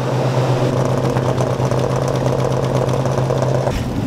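Loud, close idle of a 1970 Dodge Challenger R/T clone with a noted lifter tick, a deep steady rumble with a faint rapid ticking texture that eases slightly near the end.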